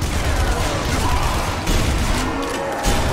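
Sustained automatic gunfire in Zombie Army Trilogy, a dense, loud, continuous rattle of shots with brief dips, heard up close throughout.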